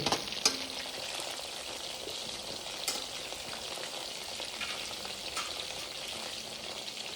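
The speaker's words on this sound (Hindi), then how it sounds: "प्याज ये अहाँ के एना के छोड़ा छोड़ा के अलग अलग कऽ देल जाय छै ताकि बेसी बढ़िया से अहाँ के फ्राई होय" Onions sizzle steadily in a hot pan as the base for chilli chicken, a continuous close frying hiss with a few sharper crackles and spits.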